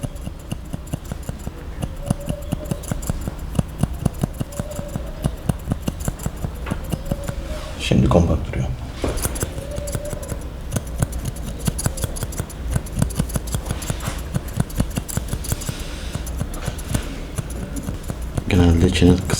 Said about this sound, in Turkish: O zaman makasla, efile makasıyla şu koyu gördüğünüz yerlerin arasına gireceğiz.